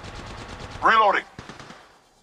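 A quick, faint burst of automatic fire in Apex Legends is quickly overtaken by a spoken in-game voice line.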